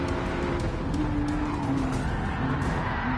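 Car tires squeal and skid under hard braking in Gran Turismo 7, a sustained tonal screech that slides in pitch over a loud, steady engine and road roar.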